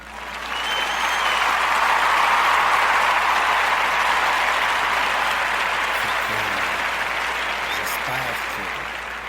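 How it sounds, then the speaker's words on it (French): Sustained audience applause from a crowd at a performance about an artists' strike, filling the whole stretch loudly and evenly before tapering slightly at the end, with faint voices underneath. "On peut maintenant applaudir."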